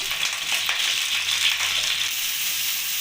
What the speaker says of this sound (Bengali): এবার আমি ফুলকপিগুলো ভেজে নেব